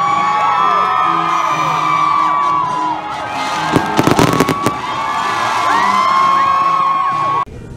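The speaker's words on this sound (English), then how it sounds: "So there was the beautiful fireworks show that I'd been waiting for 4 years" A fireworks show at a graduation celebration: whistling rockets rise and pop, a cluster of loud crackling bursts in the middle, with a crowd cheering and children shouting around them.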